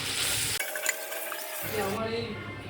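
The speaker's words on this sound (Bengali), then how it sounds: "ডিমগুলো ভেজে নিচ্ছি।" Eggs fry in a pan with a soft, uneven sizzle, broken by a short quiet gap and accompanied by light clinks and scrapes of utensils.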